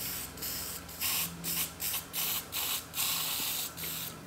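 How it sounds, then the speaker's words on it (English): Rust converter sprayed onto leaf spring parts for a 60 series Landcruiser, heard as a run of short, bright hissing bursts of even length, close and moderately loud, with brief pauses between each spray. "we're just putting some rust converter on it."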